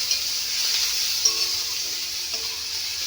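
Crushed garlic dropped into a pan of frying dhenki greens gives a steady, close sizzle and hiss throughout, with a few faint stirring clicks and no talking.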